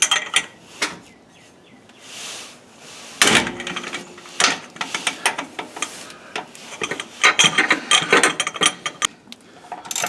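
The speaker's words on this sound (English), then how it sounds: "And you'll need to take and put a breaker bar on here." On a Ford F-150 rear differential, a breaker bar ratchets on very tight bolts. Bursts of sharp clicking and metallic clatter come close up, with pauses between them and no talking.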